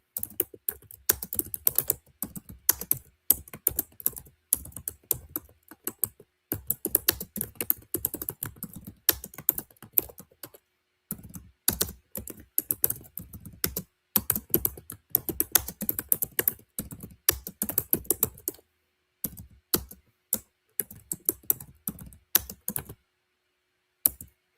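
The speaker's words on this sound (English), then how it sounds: "I'm just typing the names." Fingers type steadily on a computer keyboard for a work-from-home task, producing dense, close clicking keystrokes in quick runs, with a few brief pauses and a short silence near the end.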